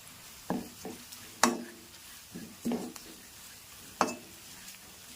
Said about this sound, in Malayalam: എന്നിട്ട് ഒന്നുകൂടി ഇളക്കി കൊടുക്കുക.